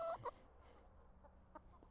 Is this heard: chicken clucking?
yes